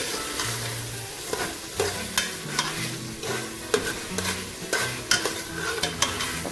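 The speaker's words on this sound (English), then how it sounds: "So now we're going to stir in our peas into the oil mixture. And we're going to allow it to fry." Lentil peas are stirred into hot oil in a pot for Grenadian pelau, with a soft sizzle under repeated scraping spoon strokes and low clunks in an uneven rhythm, close and fairly quiet.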